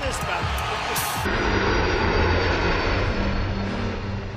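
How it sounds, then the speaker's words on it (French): Donald Trump's Boeing 757 jet airplane: a steady, loud engine roar with a low droning hum throughout, briefly mixed with a few clattering knocks at the start. "Le Boeing 757 de Trump est tout aussi puissant que l'Air Force One du président, et encore plus luxueux,"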